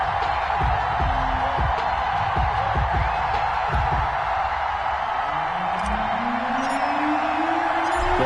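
A stadium crowd roars and cheers in an EA Sports NFL video game before a New Orleans Saints vs. Arizona Cardinals matchup, a steady loud din with whoops and thumps under a commentator's voice.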